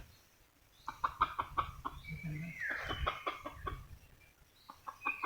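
A red junglefowl rooster and hens cluck and call in short repeated bursts close by, with a louder drawn-out call midway and a person speaking faintly in the background.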